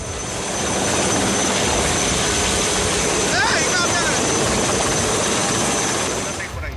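Coast Guard rescue helicopter airlifting people trapped by floodwater: a loud, steady broadband rotor and engine roar that fills the whole stretch, swelling in slightly at the start and fading a little at the end, with a faint voice underneath.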